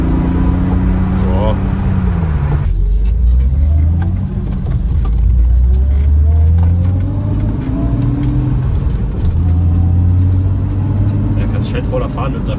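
A BMW E30 (320iC or 325i) pulls hard in third gear, its engine note rising steadily under a close, loud cabin drone while someone talks in German over it.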